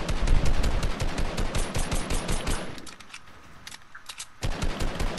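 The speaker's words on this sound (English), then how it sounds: "I shoot her in the back." Rapid bursts of video-game gunfire crackle loudly in the foreground, with dense repeating shots that pause briefly near the end before the firing resumes.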